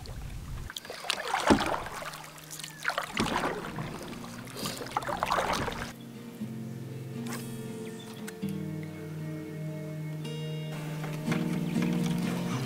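A canoe paddled across water while heading out to fish, with a few close, distinct paddle strokes and splashes early on, then quieter gliding with faint water movement and small knocks.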